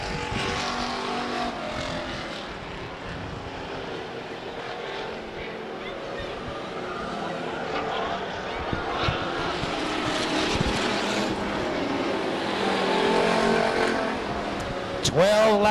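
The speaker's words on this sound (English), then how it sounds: "Sullivan and Kornstrom now leaving turn number 4. Here comes lap number 11 in the books" Race cars roar around Stockton 99 Speedway in 1999, a continuous loud engine drone rising and falling as the field circles the track. A race announcer keeps talking over the noise.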